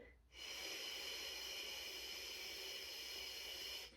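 A single slow, long exhale of a Pilates breathing exercise, a soft, steady breathy hiss close to the mic that starts abruptly, holds evenly for over three seconds, then stops, with no talking.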